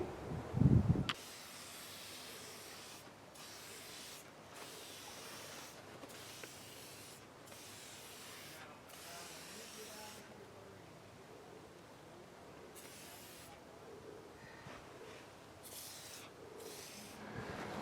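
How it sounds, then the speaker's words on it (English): Waterproofing spray hisses onto the fabric of a quick-set Venture clam shelter in long, steady bursts separated by short pauses, faint and fairly close. A thump at the start precedes the spraying. "it just says spray it on until you wet the surface"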